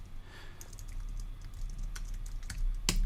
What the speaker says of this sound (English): I'm typing these.